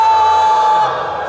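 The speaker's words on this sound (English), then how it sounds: "Can you let out one big shout?" An audience at a large conference gathering lets out one loud, sustained shout, a brief roaring crowd noise that fades slightly toward the end.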